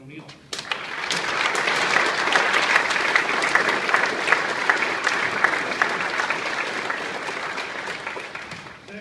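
An audience at a St. Patrick's Day gathering of Irish American Hibernians gives a sustained round of applause for a chaplain. The dense clapping fills the room steadily for several seconds before tapering slightly.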